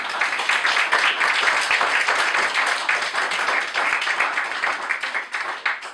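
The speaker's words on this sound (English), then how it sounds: "Please give a round of applause to Brother Les Payne." An audience applauds steadily for several seconds in a hall at a debate event, a dense wash of clapping that stays loud throughout and fades only slightly near the end.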